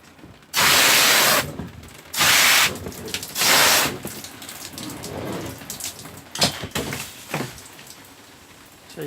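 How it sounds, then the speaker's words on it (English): A hose fitted with a cheap spray gun waters oyster mushroom grow buckets: three hissing bursts of spray, each about a second long, then a softer patter and drip of water continuing nearby. "So I've got this hose with a budgeted spray gun on it."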